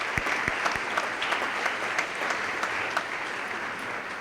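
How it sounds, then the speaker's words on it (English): Audience applause at a National Honors Society induction ceremony: a steady wash of many hands clapping, fairly distant and even, with a few sharper claps near the start. "Join me in giving them a round of applause."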